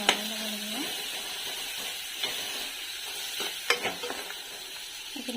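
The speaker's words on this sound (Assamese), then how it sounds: "এইখিনি ভালদৰে লৰাই লৈ মিক্স কৰি ল'লে হ'ল ভালদৰে।" Vegetables frying in a pan with salt and turmeric sizzle softly and steadily, with a few scrapes and taps of a spoon stirring them. No voices are heard.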